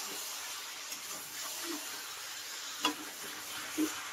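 Mutton being stirred in a pot while it braises: faint, steady sizzling hiss with soft scraping and a few light clinks of the spoon against the pot.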